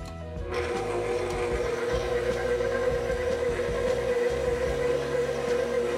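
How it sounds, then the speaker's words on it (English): A stand mixer kneading pizza dough on medium speed, a steady close motor whir with a rhythmic mechanical knocking that starts abruptly and runs continuously, no talking. "get it on the stand mixer. Go ahead and start by mixing this dough on medium."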